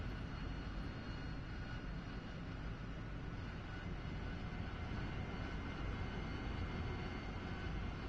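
An AV-8B Harrier jet's engine in the DCS flight simulator during night operations, heard as a continuous, steady whine and roar with no voices.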